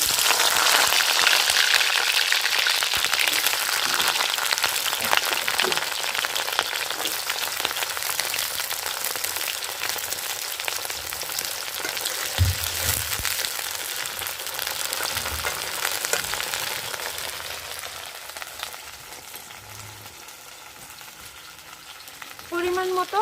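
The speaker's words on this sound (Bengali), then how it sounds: "প্রথমে ফুলকপিটা ভেজে নেব।" Cauliflower pieces fry in hot oil for a vegetable pulao, a steady close crackling sizzle that runs throughout, loudest at the start and easing slightly toward the end, with a few faint stirring knocks and no talking.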